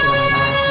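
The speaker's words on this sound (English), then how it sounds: "Air horn activate." A brief, loud, blaring video-game air horn blast, from Super Jack Paul RPG, holding a steady buzzy pitch for under a second.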